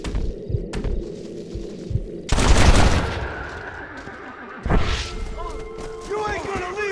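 Gunfire in the Western video game Red Dead Redemption, a dense burst of shots and impacts over a busy game soundscape with music and voices talking.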